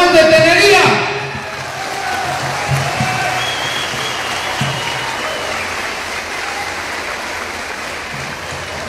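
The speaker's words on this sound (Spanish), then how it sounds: "brindemos un fuerte aplauso a nuestra alma mater, a nuestra gloriosa normal de Tenería." A crowd at a teacher-training school's graduation ceremony breaks into sustained applause just after a brief voice at the start, the clapping settling into a broad, steady roar that carries to the end.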